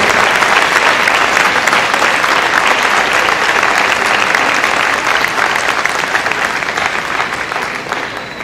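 Loud, dense applause from families and graduates at a 2019 graduation ceremony of CETMAR 14 in Puerto Peñasco, a continuous roar of clapping filling the hall and easing slightly toward the end.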